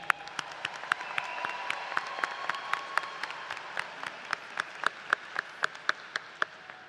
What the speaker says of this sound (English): Let's have a round of applause for the friends and family.